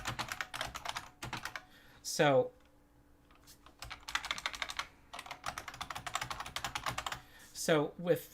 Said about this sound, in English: I'm going to start typing them in here to illustrate something.